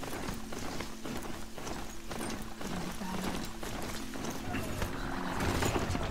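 Horse hooves clip-clopping in a steady, rapid gait in the video game Horizon Zero Dawn, with faint game ambience and some background sounds around the rhythmic footfalls.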